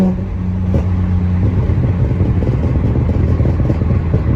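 A BMW E46 M3 on a new tune gives a steady, low engine and exhaust burble heard from inside the car while driving, with a continuous rumble and no talking.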